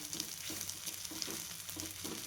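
A fasting-style stuffing mixture with rock salt is stirred in a pan for stuffed chilli fritters, with a soft sizzle and regular stirring strokes about twice a second, faint but close.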